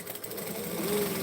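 Sewing machine back stitching in a short, fast, steady mechanical whirr heard close up, lasting just over a second.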